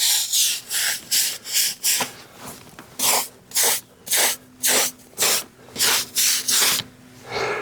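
Garden border rocks rinsed of cleaner with a sprayer in short, rhythmic hissing bursts, about a dozen, close by and loud, with brief pauses between.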